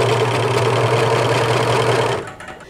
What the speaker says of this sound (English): I'm gonna serger together these three layers.